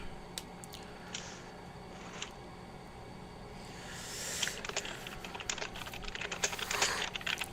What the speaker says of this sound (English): Jesus, your keyboard is killing my ears